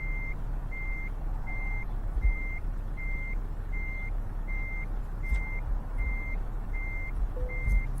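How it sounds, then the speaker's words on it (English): In Euro Truck Simulator 2, a truck reverses with a steady run of evenly spaced electronic backing beeps over a constant low engine drone, with a few faint clicks and hisses. "And now reverse back into the space."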